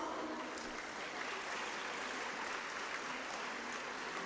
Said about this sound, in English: Let's give all our winners and participants a huge round of applause.